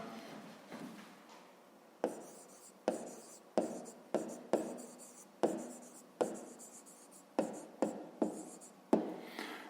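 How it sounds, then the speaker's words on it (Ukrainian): A pen writing an answer in a notebook, close and quiet, with repeated short scratchy strokes and taps in an uneven rhythm and no talk. "Ну що ж, записуємо тоді відповідь."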